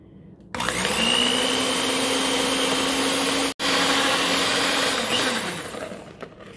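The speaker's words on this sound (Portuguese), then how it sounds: "Aqui no meu caso, eu vou utilizar a batedeira" Simple electric hand mixer whipping chocolate cake batter, a steady loud motor whine with a high hum that runs continuously, cuts out for an instant midway, then slows and fades near the end.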